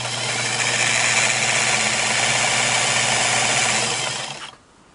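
A restored Singer Model 237 sewing machine runs at a steady speed, its motor humming and needle mechanism whirring continuously and close before stopping abruptly near the end, with no talking.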